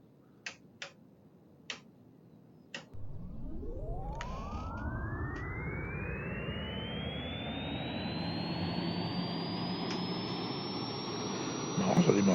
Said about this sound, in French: On va mettre la batterie. On va démarrer la turbine.